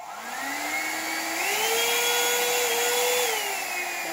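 A handheld hair dryer styling tool with high, low and cool settings runs close by with a steady, airy roar and a whining tone that climbs in pitch partway through, louder than an ordinary dryer.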